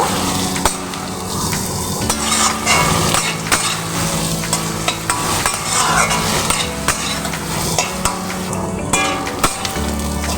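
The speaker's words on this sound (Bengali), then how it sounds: "পেঁয়াজটা দেখো হালকা লালভাবে আমি ভেজে নিয়েছি" Chopped onions frying in rendered mutton fat, loud continuous sizzle with frequent spatula scrapes and clinks against the pan throughout, close up and with no one speaking.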